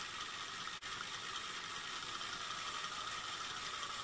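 Small steam engine built from scrap metal running steadily, a continuous fast mechanical rattle and whir with one brief dropout near the start, no talking.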